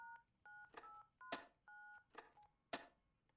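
A telephone keypad is dialed in a heist video game, giving a quick series of paired dual-tone beeps mixed with sharp button clicks, close and crisp, with no talking.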